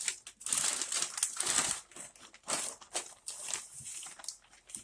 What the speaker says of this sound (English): this was a little bit of a struggle to get it in, but it didn't rip the bag